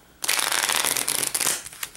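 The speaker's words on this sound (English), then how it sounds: "Give it a good shuffle." A deck of Sylvion board game cards is shuffled up close, a dense, steady riffling rush lasting over a second before it trails off, with no talking.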